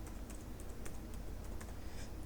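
Rapid keystrokes on a computer keyboard while writing Laravel 8 code, a dense run of light clicks over steady low hum, close and fairly quiet.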